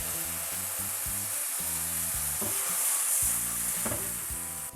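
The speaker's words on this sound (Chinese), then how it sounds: "然后加入开水，" Mushrooms cook in a pan as boiling water is poured in, giving a loud, steady sizzle and bubbling with bursts of stirring and scraping. The sound is close and continuous, and no one speaks.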